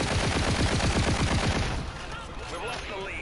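Automatic weapon fire in Call of Duty: Infinite Warfare, a fast rattling burst loud and near for about a second and a half, then fading into quieter game sounds and a voice.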